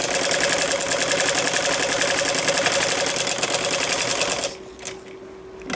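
An electric sewing machine stitches a sleeve, a loud, fast, steady mechanical whir with rapid needle clatter that runs continuously and then cuts off abruptly, leaving a quiet hum and a few faint clicks.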